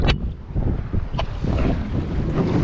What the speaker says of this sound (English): The wind is definitely picked up here.